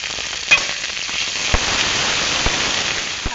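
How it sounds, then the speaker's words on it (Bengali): Ginger garlic paste hits hot oil in a kadai with onions already fried, for a Bengali sea-fish curry with new potatoes: a loud, steady sizzle broken by a few sharp crackles and pops, with no talking. "এবার দিয়ে দিচ্ছি আদা রসুনের পেস্ট,"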